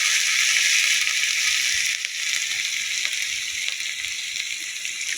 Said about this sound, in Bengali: আদা কুচা, রসুন কুচা এটা দিলাম, একটু নাড়াচাড়া করে নেব